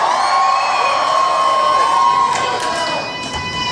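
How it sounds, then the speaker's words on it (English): A live crowd at a SeaWorld San Antonio lumberjack show cheers on axe throwers, with loud sustained shouting, whoops and children's cries, and a few sharp thuds near the end. "Cheer them on, nice and loud."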